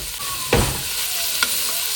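Chopped onion and tomato sizzle in hot oil with a couple of stirring scrapes, a steady frying hiss throughout.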